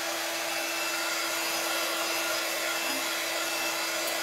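Hair dryer blowing steadily on decoupage rice paper glued to a glass jar, a constant close whirring hum with no pauses.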